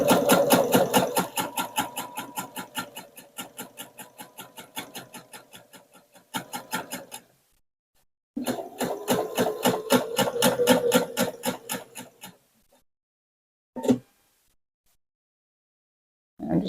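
Quilting stitches run from a home sewing machine fitted with a walking foot, as steady rapid mechanical chatter in long bursts with short pauses, then a couple of isolated single stitches near the end.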